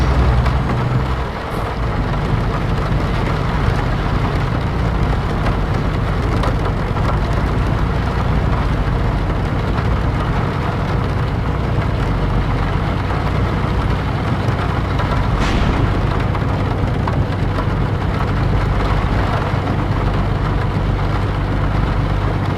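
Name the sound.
heavy rain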